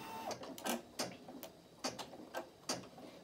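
A Brother PE800 embroidery machine begins stitching, giving off a series of quick mechanical ticks and clacks in an uneven rhythm, quiet and close with no voices.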